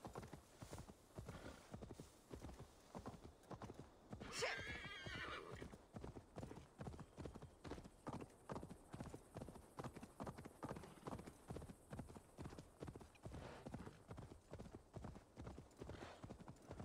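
Steady hoofbeats clip-clop in a regular rhythm throughout, with a brief horse whinny early on, all fairly quiet, in the video game Assassin's Creed Valhalla.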